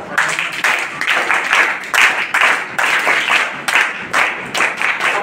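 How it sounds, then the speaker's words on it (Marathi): An audience at a children's summer camp session claps together, making a dense, loud burst of applause in uneven waves that runs the whole stretch, with a faint murmur of voices underneath. "टाळ्या वाजवा"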